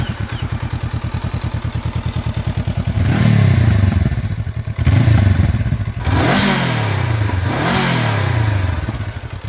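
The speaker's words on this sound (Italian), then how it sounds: "questa alternanza di fasi utili conferisce il suono galoppante a bassi regimi di rotazione del motore" A twin-cylinder motorcycle engine idles close by with an uneven, galloping low-rev beat, then blips the throttle in several loud revs that rise and fall back to the loping idle.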